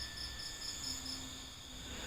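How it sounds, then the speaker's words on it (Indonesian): Faint, steady chirping of crickets in a quiet night setting, with repeated high pulsing trills and a soft background hum. "Cuma ada suara jangkrik yang gue denger."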